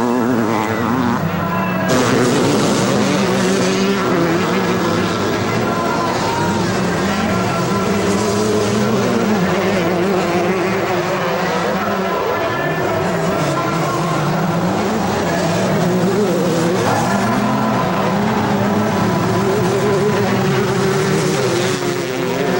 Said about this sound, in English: while the 125 battle continues with Bale moving up to the number 5 spot